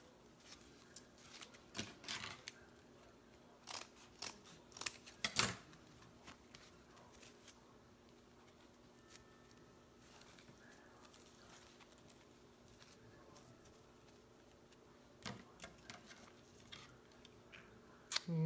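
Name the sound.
cutting Christmas wreath material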